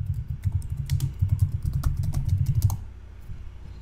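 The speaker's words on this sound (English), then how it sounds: "I'm going to type a blue gradient here." Rapid typing on a computer keyboard, a dense run of close key clicks for nearly three seconds that then stops, leaving quiet room tone.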